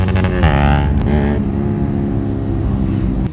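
Engine and exhaust of a 125cc naked motorcycle, a KTM Duke 125 or Yamaha MT 125 on stock exhausts, rumbling steadily up close with a brief rev rise early on, loud and continuous with no talking.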